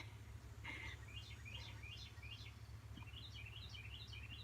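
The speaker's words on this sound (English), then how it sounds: "You hear like birds. You got to be able to hear that." Small birds chirp and tweet in quick repeated bursts, fairly faint, over a low steady background hum.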